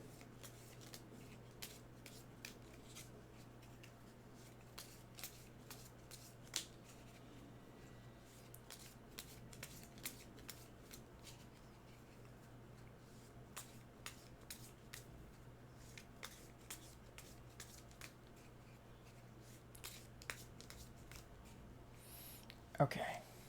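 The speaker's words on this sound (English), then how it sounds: "Like give it a really good shuffle." A deck of Marvel Zombies board game cards is shuffled by hand: a long series of quick, crisp riffle clicks and snaps, close but soft, over a steady low hum, ending in a louder knock.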